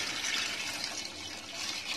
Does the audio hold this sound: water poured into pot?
yes